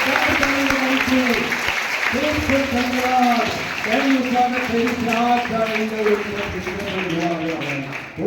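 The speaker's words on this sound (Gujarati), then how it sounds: "તાળીઓના ગડગડાટથી વધારે થઈ રહ્યું" A crowd at a school enrollment festival applauds steadily throughout while someone talks over the clapping, his voice rising above the noise.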